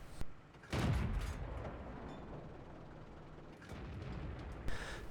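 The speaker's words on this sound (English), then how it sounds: "I'm getting off shot after shot" Tank cannon shots in a video game, a sharp blast followed by a heavier booming shot and rumbling aftermath, with another distant shot near the end.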